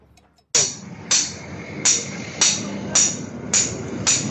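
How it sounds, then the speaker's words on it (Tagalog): Sharp metallic hammer blows pounding scrap metal at a junk shop to remove copper, striking about every half second, six or seven loud ringing hits in a steady rhythm. "pinupukpok ng martilyo"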